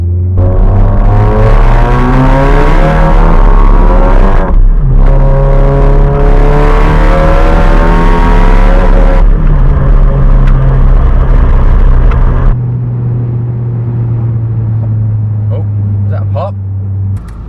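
A tuned VW Golf GTI built for over 500 bhp roars loudly and up close, its engine note sweeping upward through several hard revs before settling into a steadier, lower drone near the end.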